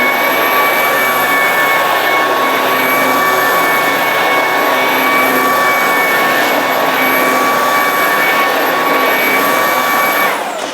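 A Ryobi 18V HP cordless stick vacuum fitted with its power head and a 4 amp hour battery runs on carpet, a loud, steady, high-pitched motor whine with a constant airy roar, close and uninterrupted.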